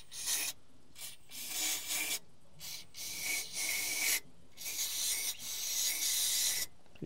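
Bolt threads being cleaned out with a rasping, scraping action on a 60-year-old V12 two-stroke Detroit dump truck, heard as close repeated strokes in bursts of about a second, with brief pauses between them.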